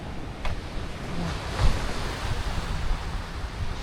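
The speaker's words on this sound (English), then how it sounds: "Hear the water," Ocean waves wash steadily along a Puerto Rico shore, a continuous broad hiss and rumble with a slightly stronger surge midway, accompanied by light wind.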